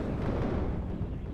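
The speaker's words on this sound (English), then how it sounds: "That was an excellent airstrike." Airstrike explosion in the WARNO real-time strategy game, a heavy rumbling low boom sustained across the whole moment with no talk.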